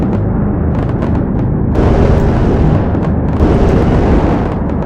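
Loud, rumbling explosions from the AC-130 gunship game Project Gunship, rolling booms that swell and overlap, with a dense low-end roar sustained throughout and no pause between blasts.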